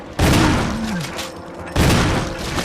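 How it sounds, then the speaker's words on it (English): Two heavy shotgun blasts in the Resident Evil HD video game, roughly a second and a half apart, each loud and booming with a long rumbling tail, and a voice speaking faintly between them. "that took a lot of shotgun shells"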